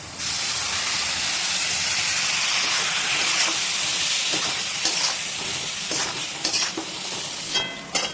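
Spices sizzle and fry in a pan with ginger-garlic paste as they are stirred for an aar fish curry, a steady loud hiss with scraping stirs and small crackles toward the end, no talking.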